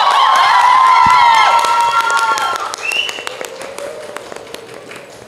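An audience breaks into loud applause, with sharp scattered claps alongside shrill whistles and cheering that are strongest at first and then thin out into lighter clapping.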